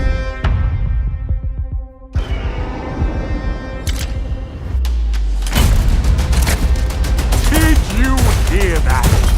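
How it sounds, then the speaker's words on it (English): The Hawkmoon hand cannon from the video game Destiny 2 fires in a teaser: sharp, booming shots ring out loud and close, layered with musical tones and other game effects. "the exotic hand cannon Hawkmoon, another weapon that you earn via a quest"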